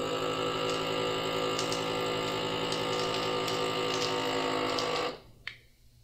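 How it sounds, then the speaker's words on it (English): A heat and vacuum sealing machine hums and pumps with a steady mechanical drone and faint rhythmic clicks for about five seconds, then shuts off with a quiet click. "Not only does it heat seal, it also vacuum seals"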